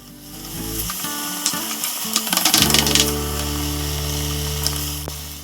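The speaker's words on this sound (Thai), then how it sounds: "ใส่น้ำมันและเบคอนผัดจนเบคอนออกน้ำมัน ถึงใส่หมูบด" Bacon and ground pork fry in oil in a pan for pasta Bolognese, a loud, close, continuous sizzle over a steady mechanical hum, with a brief spell of stirring clatter in the middle.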